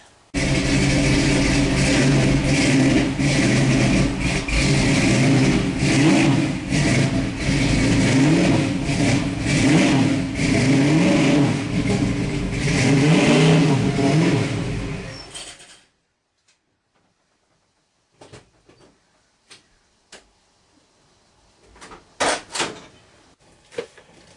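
A '69 Camaro V8 rumbles and revs loudly at close range for about fifteen seconds as it rolls into a garage, then cuts off abruptly, leaving near-silence broken by a few scattered knocks and clunks.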